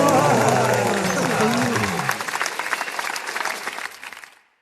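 An audience gives a band a warm welcome, a dense wash of applause with a few cheers and voices that tapers off and stops near the end.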